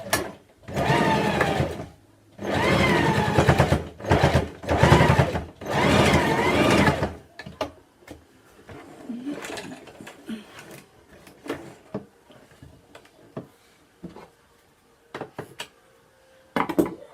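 Sewing machine stitching the side seams of a homemade fabric face mask, several loud bursts of running stitches over the first seven seconds, then quieter handling and clicking.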